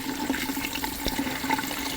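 Food being rinsed under a running kitchen tap before grinding, a steady wash of flowing water with small splashes and a brief thud, moderately close and continuous throughout.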